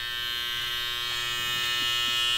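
Electric hair clippers buzz steadily and close up during a mid-high haircut at a barbershop, a continuous bright whine with a faint rise toward the end.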